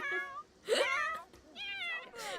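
Cats meowing in The Sims 4, several close, drawn-out meows in a row from a group of kitties, with a voice talking faintly in the background.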